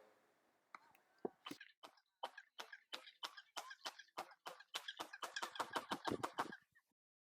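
Handclaps at a pyramid staircase in Puebla return as a series of sharp chirping echoes that resemble a seagull's cry, speeding up into a rapid burst before falling silent.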